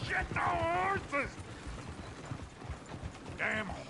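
Horses in the Red Dead Redemption 2 video game clopping with hooves and whinnying in two loud rising neighs, one early and one near the end, while a voice talks over them.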